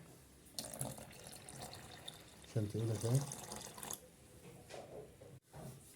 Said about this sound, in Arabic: نزود مية تاني